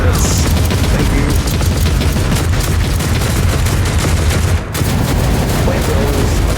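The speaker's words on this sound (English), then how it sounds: "Defense protocols initiated. Bring in, the turrets." Defense turrets in a Warhammer 40k video game fire continuously, a loud, dense barrage of booming shots that keeps going without pause over a few seconds.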